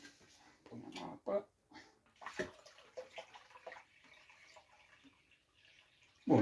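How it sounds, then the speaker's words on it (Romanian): Water pours and splashes into a bucket in intermittent gushes, set against quiet surroundings with a louder splash at the end. "Mai punem apă să umplem găleata ca să fie"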